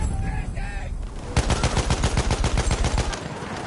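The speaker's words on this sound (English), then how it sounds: "Enemy machine gun." Enemy machine gun fire in Battlefield 1 on PS4 Pro rattles out as a loud, evenly paced burst of about a dozen sharp rounds lasting nearly two seconds, after a brief quieter lead-in.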